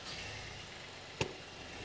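A 2023 VW Taigo engine runs quietly in gear with a low, steady hum, broken once by a single sharp clunk.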